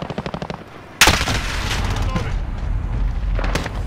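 Gunfire in the video game Modern Warfare: a quick string of rapid shots, then a loud booming blast followed by rumbling, echoing fire, close and dense, with voices under it.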